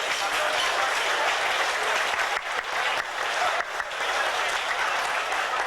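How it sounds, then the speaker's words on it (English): Guests at a Greek TV anniversary dinner dance applaud in a sustained burst of crowd clapping, fairly loud and even, with a couple of brief dips and a faint murmur of voices underneath. "he deserves a good round of applause"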